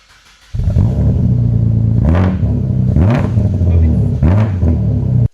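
Loud aftermarket exhaust on a Barra-engined car, lowered stance, barking through three sharp revs over a steady heavy idle rumble, close and alone.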